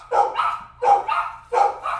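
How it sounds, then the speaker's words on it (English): Dogs bark nearby in three loud, evenly spaced double bursts, each a sharp bark followed by a shorter yelp-like echo, with no talking over them. "don't mind the dogs"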